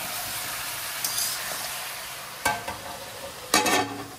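Country chicken curry sizzles over a high flame in a pot, a continuous hiss of frying punctuated by a few distinct scraping stirs, close and without talk.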